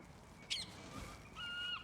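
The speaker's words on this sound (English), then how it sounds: "As a seagull goes by." A seagull calls as it flies over a street in South Croydon, London: a sharp squawk followed by a couple of drawn-out, thin cries, fairly close over quiet background hum.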